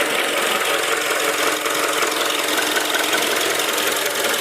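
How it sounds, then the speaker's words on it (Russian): A Honda car engine idles with a steady, dense rattling knock and a diesel-like clatter of injectors, loud and continuous throughout with no voices. "Но еще есть какой-то такой тарахтящий, какой-то дизельный звук."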